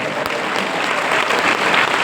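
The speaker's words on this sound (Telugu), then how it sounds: "చప్పట్లు గట్టిగా." Loud, steady applause from an audience at a Telugu-language religious gathering, dense clapping that fills the whole stretch without pause and swells slightly toward the end.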